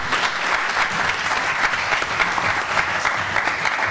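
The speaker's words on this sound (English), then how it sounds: "Another round of applause for our panelists, please." Steady, dense applause from an audience at a web development forum at Olive-Harvey College, honoring the panelists; loud, continuous clapping with no pauses throughout.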